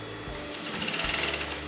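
A sewing machine runs steadily while stitching a kurta neckline, its fast, even needle chatter continuous throughout at close range.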